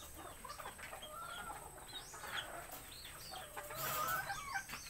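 Hens cluck and chatter close by, several breeding hens murmuring and squawking over steady farmyard noise, with a louder burst of clucking near the end.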